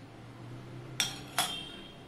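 Two sharp metallic clinks about 0.4 seconds apart as a metal mesh disc is fitted into a murukku press, bright and close with a short ringing tail, over a quiet kitchen background.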